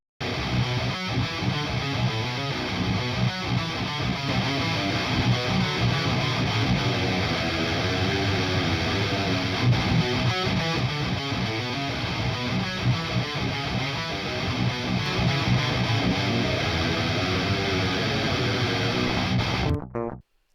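Heavily distorted electric guitar chugs through palm-muted riffs processed by the STL Tones ControlHub plugin, loud and continuous for about twenty seconds with dense, tight low-end rhythm before stopping abruptly.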